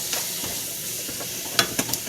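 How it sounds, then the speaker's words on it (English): A spoon stirs honey garlic meatball sauce in a hot pot, soft continuous sizzle and hiss with a few sharp scraping knocks near the end, close and without voices. "gotta stir things"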